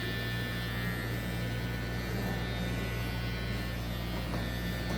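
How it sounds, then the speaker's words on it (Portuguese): A barber's electric finishing clipper trims a client's hair for a fade, giving a steady, close, continuous motor buzz with a strong hum and no pauses. "Então eu venho marcando com a máquina de acabamento."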